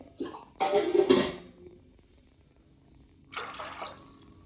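Water poured in two short bursts into a cooking pot of chickpeas, splashing close by, separated by a quiet pause.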